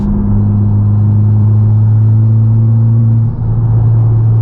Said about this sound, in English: Listen to me just give it a little bit of throttle in fifth.